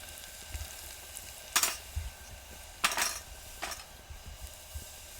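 Asafoetida (hing) hitting hot oil while cooking a Gujarati methi bhaji, giving a few short bursts of sizzle over a quiet kitchen background, with light clinks of utensils in between.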